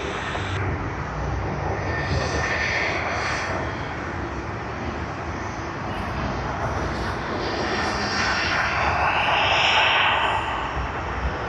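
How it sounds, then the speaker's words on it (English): An Airbus A330 jet taxiing at Sydney Airport gives off a steady, fairly loud engine rumble and whine that swells slightly toward the end, with no talking. "Airbus A330 to Grand Gate, taxi 25 to 36"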